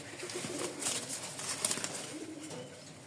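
Lakha fantail pigeons coo softly in a bird market, a low burbling call repeating a few times with faint background clatter and rustle.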